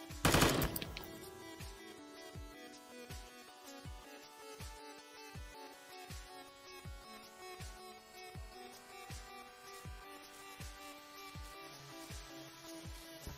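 Rapid automatic gunfire in the blocky shooter game Voxiom.io, opening with a loud burst and then continuing as a steady stream of evenly spaced shots at a fast rhythm, with no talking.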